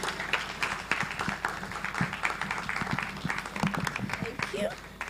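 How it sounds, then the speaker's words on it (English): Audience applause at an influencers conference for a speaker: dense, steady clapping from a crowd, fairly distant, with voices mixed in throughout. "Ladies and gentlemen, a round of applause for Mr."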